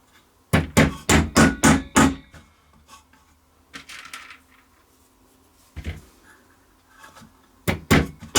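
Hammer driving 1.5 inch brad nails into a wooden weaving loom frame: a quick burst of five or six sharp close blows, a few lighter taps, then another pair of strikes.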